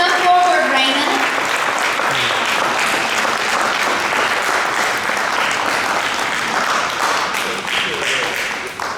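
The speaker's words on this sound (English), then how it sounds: "Please, let's take this moment to give Raina a round of applause." Sustained applause from an audience at a ceremony honoring a person, dense clapping that stays loud and even for the full stretch before slowly thinning.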